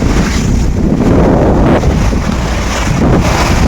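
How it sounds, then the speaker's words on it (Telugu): Open sea waves and strong wind roar constantly aboard a ship sailing toward Vizag, a loud, dense wash of water and wind buffeting with no voices. "తూర్పు వైపు వెళ్తున్న కెరటాలు, పడమర వైపు వెళ్తున్న కెరటాలు"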